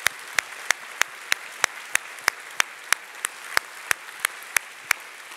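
Sparse, evenly spaced claps from a small number of people at a university State of the University address, each clap crisp and distinct and coming in a steady rhythm, with no crowd roar underneath.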